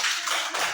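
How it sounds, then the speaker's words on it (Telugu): Schoolchildren applaud together at a school activity session, a brief dense burst of many small hands clapping at once, close and lively, with no talk over it. "క్లాప్స్ కొట్టండి."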